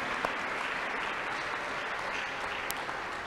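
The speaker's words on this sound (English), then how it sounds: "Clap your hands unto God of the choosing" A congregation at a crusade claps hands in steady, dense applause that fills the space evenly and keeps going throughout.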